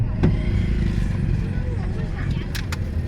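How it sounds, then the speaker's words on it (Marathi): Many cars and motorcycles arriving near a village railway crossing, a close rumble of engines with a passing rev and a couple of horn-like tones, under the murmur of a voice and crowd chatter. "केवढ्या गाड्या येऊन राहिल्या लोकांच्या"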